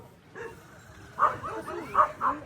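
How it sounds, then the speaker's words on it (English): Dogs bark and yip in an outdoor island setting, a few sharp, fairly close barks in quick bursts toward the end over a quiet background. "Sorry for all the barking."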